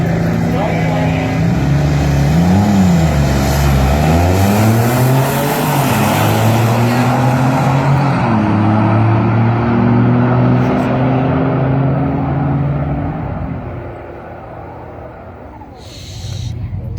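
Turbocharged Plymouth Duster with an LS swap launching down a drag strip in the right lane, a loud engine roar rising and falling through gear changes as it pulls away, fading with distance and ending quieter.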